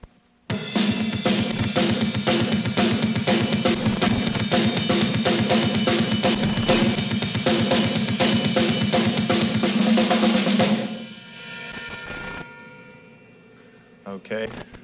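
A drum kit plays a rapid, relentless double bass drum figure, a dense stream of kick strokes driving under crashing cymbals for about ten seconds, loud and close, before cutting off into ringing decay and a few scattered hits.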